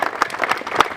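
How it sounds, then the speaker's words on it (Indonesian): Junior high school students at SMP YPPGI in Lanny Jaya clap in a short, light burst, with a few irregular hand claps heard close by for about a second. "Itu kamu tepuk tangan untuk beliau ini"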